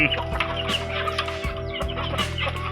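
Chickens clucking close by on a Thai farm, a steady overlapping chorus of short, throaty clucks and squawks from several birds, loud and continuous with no voices.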